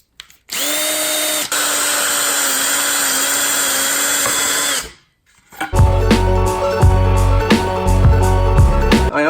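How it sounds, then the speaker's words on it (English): A power drill whines steadily while boring holes into the ends of wooden pieces for joists and spacers, loud and close for several seconds, then after a short pause a clattering burst of handling and tool knocks follows. "I'm going to drill a couple of holes into the ends of these pieces of wood"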